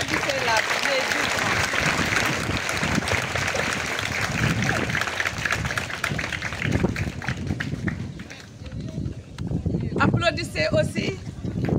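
Schoolchildren and guests clap at an outdoor flag-raising ceremony at a school in Ouakam, the clapping loud and uneven, thinning toward the end, with wind buffeting the microphone and a voice talking briefly.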